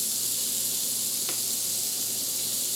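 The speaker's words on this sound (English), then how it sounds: "Flipping my sausages" Sausages sizzle in a frying pan with a steady, even hiss, and a single brief scrape cuts through as they are turned.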